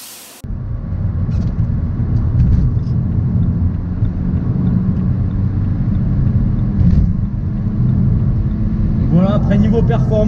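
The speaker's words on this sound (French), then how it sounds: "Et niveau du son, je trouve que le 4 cylindres fait un beau bruit." A 2008-era BMW 318d E90 with its 122-horsepower four-cylinder diesel engine idling, a steady low rumble that holds throughout after a brief click at the start, with a slight rise in pitch near the end.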